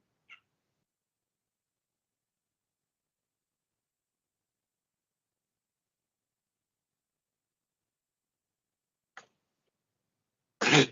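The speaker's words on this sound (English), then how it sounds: "Oh, my cat." A cat gives a few short, isolated meows in a quiet room, one faint at the start, one around nine seconds, and a louder, fuller meow right at the end.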